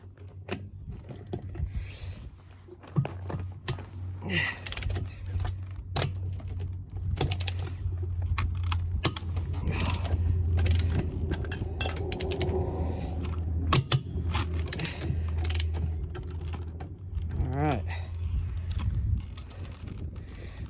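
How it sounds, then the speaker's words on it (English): A torque wrench used as a breaker bar loosens lug nuts on an RV trailer wheel, giving repeated close scraping, ratcheting and rubbing sounds over a steady low hum, with a few sharp clicks and faint birdsong in the background. "I used my torque wrench as a breaker bar."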